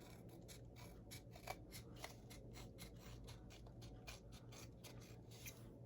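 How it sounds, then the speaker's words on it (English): Small scissors trim a thin overhang of paper on a handmade gift box, a rapid series of quiet, close snips over low background hum. "Just take your scissors and trim it."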